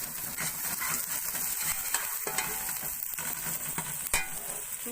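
Whole dried red chillies, about ten to fifteen, frying in hot oil, giving a steady close crackling sizzle with occasional stirring clicks.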